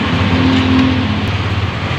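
A 2020 Honda Genio scooter engine runs right after being started, a steady low idle hum close by with a fairly constant level throughout, no voices.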